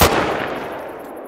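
A single hunting rifle shot in The Hunter: Call of the Wild, one sharp loud crack at the start followed by a long rolling echo that fades out.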